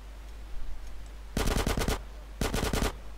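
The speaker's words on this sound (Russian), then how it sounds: "Что-то просто подумал, что кто-то из дробовика стреляет" Automatic gunfire in GTA San Andreas Definitive Edition, two loud close bursts of rapid shots, the first longer, separated by a brief pause over faint background hum.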